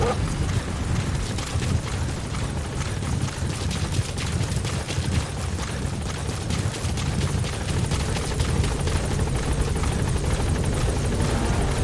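A support helicopter in Metal Gear Solid V: The Phantom Pain arrives at a landing zone, its loud, steady rotor roar and whine filling the whole stretch close by with no talking.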